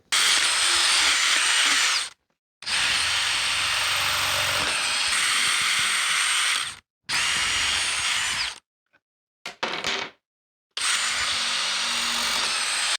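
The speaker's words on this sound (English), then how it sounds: "and then I will pre-drill it and screw it in" A power drill whines loudly in several long bursts with brief pauses between, driving into wood up close.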